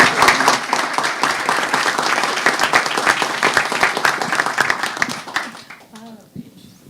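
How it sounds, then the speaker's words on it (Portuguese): Conference audience applauding after an academic talk, many individual claps close together, loud at first and thinning out toward the end, where a voice begins speaking over the last scattered claps. "e agora, palmas"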